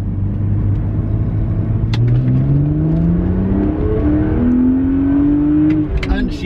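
A BMW 130i engine revs up through second gear on a twisty country road, its rising whine climbing steadily under a constant in-car rumble.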